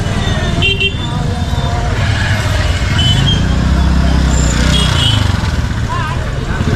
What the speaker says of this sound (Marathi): auto rickshaw traffic